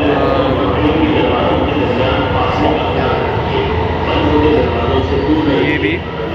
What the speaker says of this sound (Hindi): एक ट्रेन रुक गया वाले साइड से और दूसरा ट्रेन भी आ रही है।